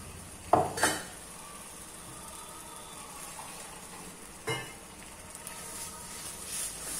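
Ground coconut paste poured into a pan of salna, giving a couple of sharp scraping clinks and a soft wet slop early on, then another clatter midway over quiet kitchen background.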